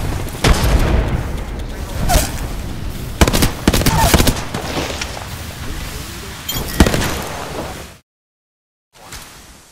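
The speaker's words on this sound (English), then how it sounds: "Frag out. Eat thermite." In Apex Legends, a frag grenade and thermite go off in a string of sharp blasts and crackling bursts, loud and close, with a voice speaking between them before a short silence near the end.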